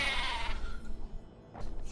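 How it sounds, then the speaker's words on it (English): A sheep bleats in the Magic: The Gathering digital card game, one wavering, nasal bleat heard clearly and alone against quiet game background sound. "A sheep."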